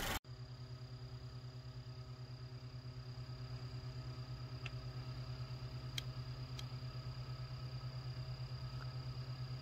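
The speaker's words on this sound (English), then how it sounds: "These current lights we have in here right now, the fans are kind of loud on them," Small cooling fans on aftermarket LED headlights whir steadily with the car's engine off, a constant close hum with a faint rapid ticking rhythm and a few brief clicks, no talking.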